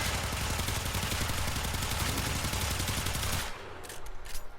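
Akstiletto Prime pistol in Warframe firing a rapid, loud, continuous burst of shots for about three and a half seconds, then cutting off into quieter scattered game sounds.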